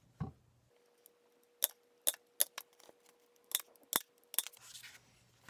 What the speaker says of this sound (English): use the hole punch to punch the holes